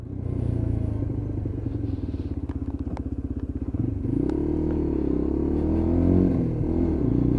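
Lexmoto LXR 125 motorcycle being ridden on the road, its small engine droning steadily with a rapid pulsing beat, then the pitch shifts and rises as it accelerates, heard close and continuous with no talk.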